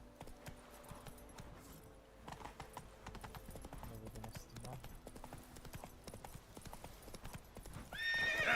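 Horse hooves clip-clop steadily in The Witcher 3, with whinnies and a muffled game soundscape underneath, voices speaking over parts of it and a brighter, louder burst near the end.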